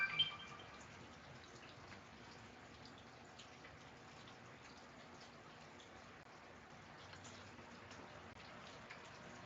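Bacon sizzles in a pan with a dense, even hiss of tiny pops and crackles, soft and steady throughout, opening with a couple of slightly louder spits.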